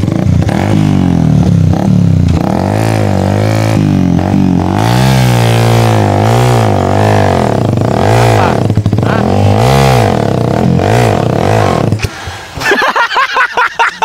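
A motorcycle engine runs loudly and close, revving up and down repeatedly in a continuous rough drone for most of the stretch before cutting out abruptly near the end, followed by clattering and voices.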